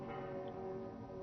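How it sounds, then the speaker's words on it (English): Church bells ring together during change-ringing practice, a faint, distant, steady peal of overlapping tones. "Do you mind telling us what those bells are?"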